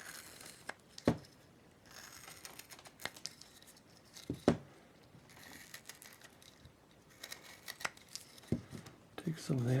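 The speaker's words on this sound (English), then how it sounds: "Take your knife and cut that out of there." Knife cutting and shaving wood while carving a female figure, giving intermittent short scraping and snapping cuts spaced a few seconds apart, close and moderately loud with quiet handling noise between.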